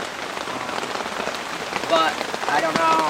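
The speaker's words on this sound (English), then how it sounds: "it's such a cold and cutting rain" Cold, cutting rain pours steadily onto a lake and its shore, a dense close patter of drops that swells slightly toward the end, while someone speaks briefly over it.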